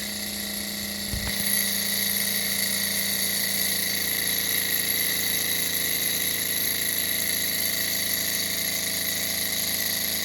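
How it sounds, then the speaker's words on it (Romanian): A small Stirling engine runs with a steady, faint mechanical hum and whine, unbroken for several seconds after a brief knock near the start. "Acum motorul a pornit"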